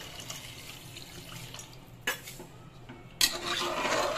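Mutton curry in a Rajasthani style, with garam masala powder added, is stirred in a pot, giving soft scraping swirls with a few sharp metal spoon clinks against the pot, close and without talk.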